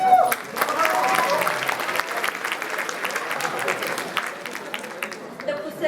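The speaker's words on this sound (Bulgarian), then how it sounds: "Да посрещнем с аплодисменти директорът на професионална гимназия по икономика Благоевград, госпожа Бояджиева." A school audience applauds to welcome the director of a professional high school of economics in Blagoevgrad, a steady wash of clapping through the hall, moderately loud and continuous.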